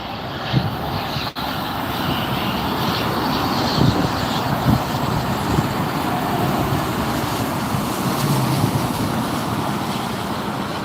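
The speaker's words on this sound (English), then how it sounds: "That was a NetJets Bombardier Global 6000 that just flew by us" A NetJets Bombardier Global 6000 business jet passes near LAX with a steady, broad engine roar that holds loud and even throughout, with no talk over it.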